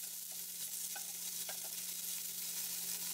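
A 300 g block of tofu frying in a pan as its underside turns golden, giving an even, constant hiss of oil with a few faint pops and no talking.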